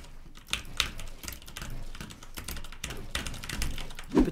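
Rapid clacky keystrokes on a Corsair K65 mechanical gaming keyboard, close and steady, with a few louder taps standing out near the end.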